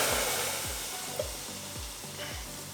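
Heinz Mexican beans simmering in a pan, a steady soft bubbling and sizzling hiss with faint repeated low pops throughout, close and continuous.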